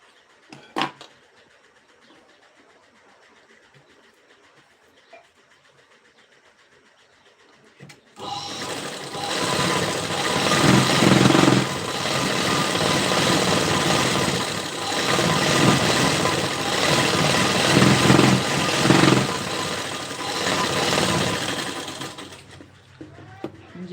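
A sewing machine stitches a straight seam at the waist of a boat neck blouse, running close and loud in a long continuous whir after a quiet stretch of small handling noises.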